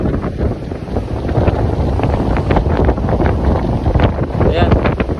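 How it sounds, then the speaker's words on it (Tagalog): Heavy gusting wind and big waves pound at sea off Bohol in stormy weather, a dense, loud, steady roar of surf and wind buffeting close to the microphone. "Lalaking alon yan guys."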